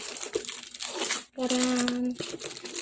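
A taped box of CellCept medicine is opened by hand without scissors, crinkling and tearing loudly and steadily at close range, with a brief pause and a sustained squeaky rip in the middle.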